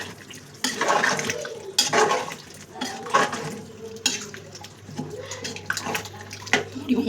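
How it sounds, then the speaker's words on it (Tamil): Water splashes and sloshes in short bursts into a pot of white chickpea curry, with clinking and stirring sounds close by. "ஒரு ஸ்பூன் தண்ணி ஊற்றிக்கலாம்."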